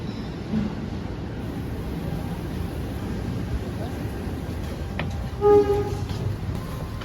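Inside the economy carriage of the KA Airlangga passenger train from Jakarta to Surabaya, a steady low rumble of wheels and carriage runs throughout, with a brief louder clatter near the end.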